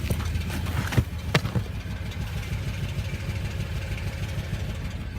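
A misfiring Acura car engine idles close by with a low, uneven rumble and irregular stumbling pulses, a few sharper knocks standing out near the start.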